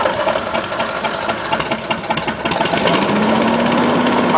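A hovercraft engine at a college test run fires up and is throttled to full power, a steady loud droning roar that rises and strengthens in the second half.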